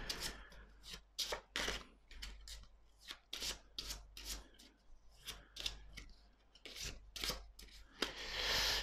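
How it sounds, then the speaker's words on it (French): Terraforming Mars board game cards are shuffled by hand, making a quiet series of quick papery riffles and rubbing bursts in an uneven rhythm, close up with no talking. "je vais bien les mélanger"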